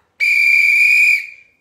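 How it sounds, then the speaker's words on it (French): A single loud, shrill whistle blast held for about a second, then quickly trailing off, close and alone. "N'oublie pas ton sifflet demain."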